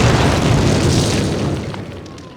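A loud, close explosion in the World War II game Call of Duty, set around D-Day at Sainte-Mère-Église: a heavy, booming blast with a rumbling tail that slowly fades away, heard alone.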